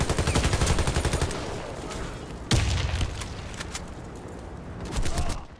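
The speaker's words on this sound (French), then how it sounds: "Y'a tout le monde qui envoie des grenades, ça, explose partout" Grenades explode in the online shooter Warface amid constant rapid gunfire, with a sharp, heavy blast cutting in midway and more bursts of shots continuing around it.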